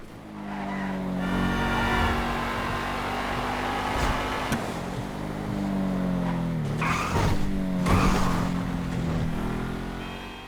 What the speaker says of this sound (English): Here goes my full throttle highway exit.